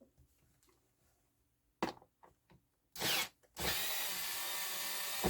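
A cordless electric screwdriver whirs up close while a Pioneer PL-117D turntable is serviced: a few short bursts, then a longer steady whine, with no talking.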